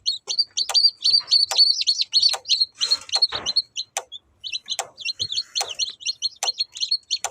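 A crowd of freshly hatched incubator chicks chirps nonstop while learning to drink water and peck at feed, their bright, shrill peeps overlapping at close range with a brief scuffle of movement midway.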